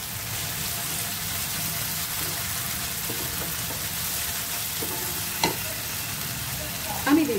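Ghee sizzles steadily in a frying pan for a paneer and peas curry, with a soft continuous crackle under occasional spoon scrapes and stirring clinks, close and moderately quiet.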